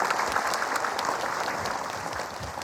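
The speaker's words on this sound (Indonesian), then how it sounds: "Tepuk tangan deh buat Ibu Syahrini." A studio audience at a televised religious talk show claps steadily, a dense, even round of applause that tapers slightly toward the end, with no clear speech over it.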